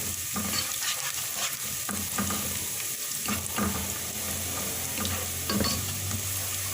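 Finely chopped onions frying in oil until golden brown, a steady close sizzle with repeated stirring scrapes of a spoon against the pan at uneven intervals, with no one talking.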